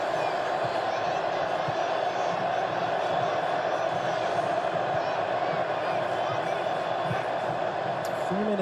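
A stadium crowd of USMNT fans at USA vs. Turkey at the 2026 World Cup makes a constant murmur and roar beneath a commentator's voice, with occasional cheers rising.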